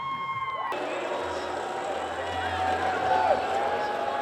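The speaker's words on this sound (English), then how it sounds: "The crowd are urging them on, cheering them on." Spectators cheering and shouting along a soapbox race course as a cart struggles on after losing its back left wheel, a steady crowd roar that swells slightly near the end, with a commentator talking over it.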